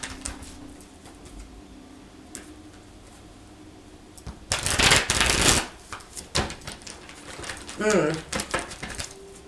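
A burst of rapid riffling as a deck of tarot cards is shuffled, loud and close, followed by quieter handling sounds.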